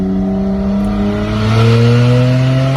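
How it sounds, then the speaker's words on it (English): A Honda Odyssey minivan with open headers revs loudly and close, a raw droning exhaust note with rising pitch that climbs steadily over nearly three seconds, no talking. "Honda Odyssey open headers"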